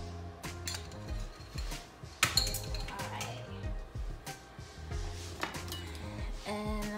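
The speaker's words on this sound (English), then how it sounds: "I'm just gonna whisk that all in together." A whisk clinks and scrapes around a bowl of vegan Swedish meatball mixture, irregular metallic taps and knocks with one sharper clatter, close by, while a person speaks intermittently.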